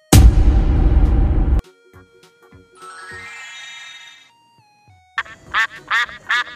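A duck quacks in a rapid burst of several nasal calls near the end, preceded by a loud noisy hit and soft chime-like electronic tones.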